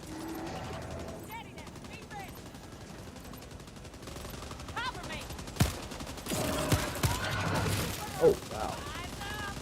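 Gunfire in the video game Helldivers 2, scattered shots and bursts with mechanical clatter amid game effects, growing louder in the second half alongside voices.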